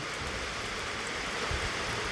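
Steady rain hissing across the whole stretch, a dense even wash with no voices, fairly constant in level throughout.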